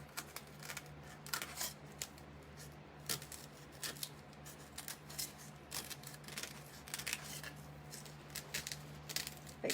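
A knife slicing through a Hostess cake with a cream filling, giving a run of soft, close crisp cutting sounds and light scrapes that come in small irregular bursts over a quiet background.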